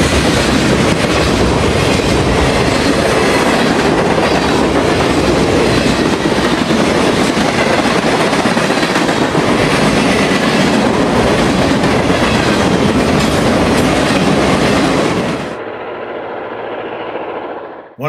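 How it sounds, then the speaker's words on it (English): A freight train led by an ABBB set of F-unit locomotives roars past close by, with loud continuous engine rumble and rolling wheel noise that cuts off abruptly near the end to a quieter fading rumble. "An ABBB set of Fs lead a freight past Red Bank Yard just south of Red Bluff."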